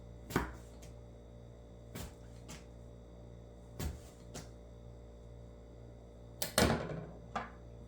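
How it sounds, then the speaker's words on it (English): A knife cutting an apple into quarters on a board, with about five separate sharp chops or slices spaced a second or two apart over a faint steady hum. "I'm gonna cut it in quarter. Okay, and then I'm gonna slice."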